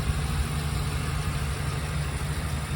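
A 7.3 liter V8 in a 2022 Ford E-350 Super Duty box truck idles steadily, a constant low rumble that stays even and close throughout with no voices.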